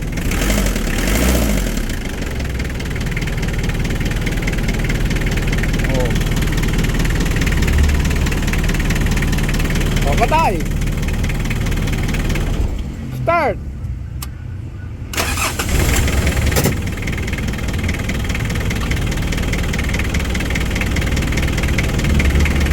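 A noisy Mitsubishi 4D56 diesel engine cranking and idling, a loud rough clatter that runs almost throughout, dipping briefly near the middle before settling back into a steady rattle.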